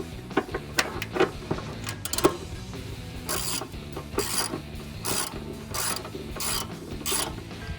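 Repeated clicks of a ratchet fitted with a 1/2 inch socket and extension tighten a bolt on a running board bracket of a 2019-2022 Silverado 1500, rhythmic close ratcheting bursts with no talk.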